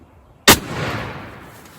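A single loud shotgun blast fired at a turkey outdoors, an abrupt sharp crack followed by a long rolling decay into quiet surroundings.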